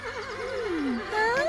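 Cartoon horse neighing in a children's animated series, a wavering whinny that rises and falls over about a second and a half, followed by a brief higher squeal, loud and close with no talk over it.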